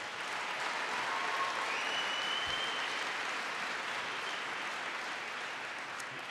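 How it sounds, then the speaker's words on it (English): Loud, steady applause from an audience at an event on the economy in New York, a dense wash of clapping that holds evenly throughout. "Please give him a big round of applause."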